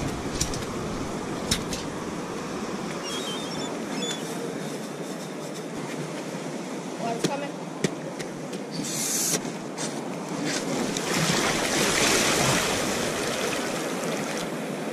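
Ocean surf washes in on a beach at minus tide during razor clam digging, a continuous broad rushing wash that swells louder toward the end, with occasional faint clicks and no talk.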